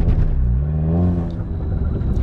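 A Volkswagen MK7 Golf R revs hard during a short burnout. The engine gives a loud, close roar that climbs and then settles over a couple of seconds.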